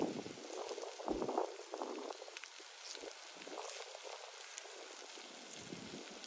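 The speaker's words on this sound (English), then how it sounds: "I can smell these onions cooking already" Onions frying in a pan over a camp stove at a campsite, soft crackling and bubbling sizzle with scattered pops, fairly quiet and steady, no talking.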